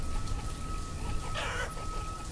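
Chickens cluck faintly in the village-building video game Banished, under a steady rain-like hiss of ambient game noise.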